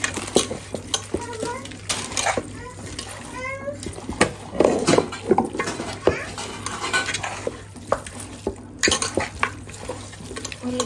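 Fried onions and oil being stirred together in a pot for chicken dum biryani, with repeated scraping and clinking of a spoon against metal over a light sizzle, and a voice talking intermittently.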